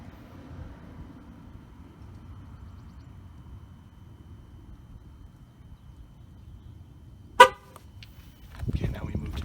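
A GM vehicle's horn gives one short, sharp honk during TPMS sensor programming, standing out loud and close against a quiet, low rumbling background.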